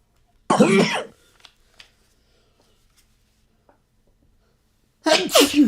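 A sharp sneeze bursts out near the start, followed by faint rustling, then a second sneeze-like burst at the end.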